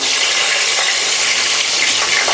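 Cardamom, cloves, cinnamon, bay leaf and green chillies frying in hot oil for mushroom biryani with coconut milk, a loud, close, continuous sizzle with no talk.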